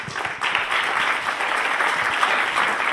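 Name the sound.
audience applause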